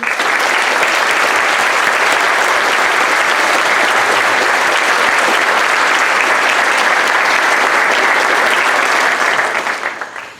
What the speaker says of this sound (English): will you join me in a round of applause for all your teachers?